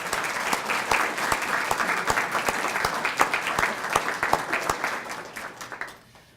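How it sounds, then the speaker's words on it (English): An audience at a Hall of Fame induction ceremony gives a sustained round of applause, dense clapping that stays steady and loud before fading near the end. "So how about a round of applause as a thank you for everyone."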